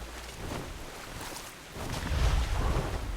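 A rushing waterfall in the video game Where Winds Meet gives off a broad, steady roar that swells louder in the second half, with no voices.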